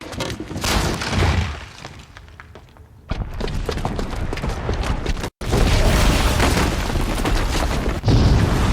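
A bomb's booby trap detonates in Horizon Zero Dawn, a heavy booming blast with crashing debris and rumbling that stays loud after a brief cutout, with further impacts near the end.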